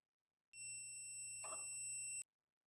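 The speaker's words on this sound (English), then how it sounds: "The system will immediately sound an alarm and lock the door once again" A pantry door lock security system sounds its alarm: a steady electronic tone with sharp high harmonics holding for under two seconds, clear and close, with a brief muffled knock in the middle.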